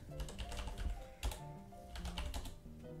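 Quick, quiet clicks of typing on a computer keyboard come in uneven bursts, with a few louder key strikes and no talking.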